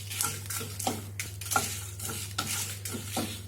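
Whole spices frying in a pan for varutharacha chicken curry: star anise, cinnamon, cardamom, cloves and fennel seeds, dry-roasted and stirred. A spoon scrapes in repeated rhythmic strokes over a soft sizzle and a steady low hum, with no talk.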